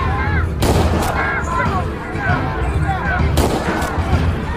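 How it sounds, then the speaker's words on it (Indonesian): Gunshots fired at villagers by Japanese troops in a war film: heavy, booming rifle shots over a continuous rumbling battle din, with two sharp blasts standing out. A voice is heard over the gunfire. "Namun Shidokan malah menembak para rakyat itu."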